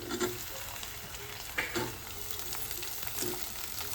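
Tomato going into a pan of frying onions sets off a steady sizzle, with a few louder bursts of crackle as the pieces hit the hot oil and get stirred, close and fairly quiet.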